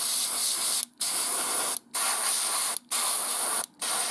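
Airbrush spraying paint onto a Sector Mechanicus crane model, a steady close hiss in four bursts of about a second each, separated by brief silent gaps.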